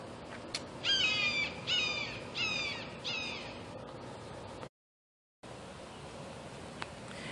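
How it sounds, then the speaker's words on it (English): Bird on a perch calling after taking off, four loud rhythmic cawing calls in quick succession, then a brief cut and quiet outdoor background. "that cool bird perched up there, looking down at me"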